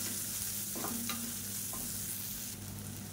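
Small shallots sautéing in a pan for a spicy ragi and drumstick-leaf dish give a steady, close sizzle with a few faint stirring scrapes, no voices.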